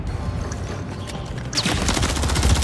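Rapid automatic gunfire in a first-person shooter match, a dense loud burst of shots that intensifies midway and keeps rattling to the end.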